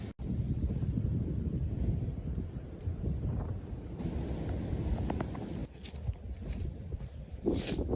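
Wind buffets the microphone at High Cliff State Park on a cold morning, giving a steady low rumble with gusty swells and a few light rustles.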